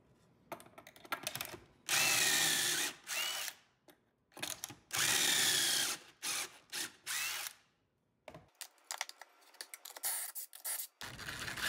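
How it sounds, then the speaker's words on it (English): A Kreg jig drills pocket holes in desk boards, the drill whirring loudly in several bursts of a second or two, with pauses and clicks between them, close by and with no talk. "I just pop my boards in and then it adjusts to the depth that it needs to drill for me."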